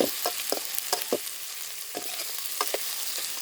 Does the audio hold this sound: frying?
yes